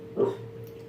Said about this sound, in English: That was my dog barking in her sleep.